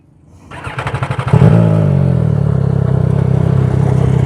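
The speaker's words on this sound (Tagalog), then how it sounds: "May tricycle." A motorcycle taxi tricycle on a rural road revs up close by, its engine pulsing rapidly before settling into a loud, steady drone as it passes.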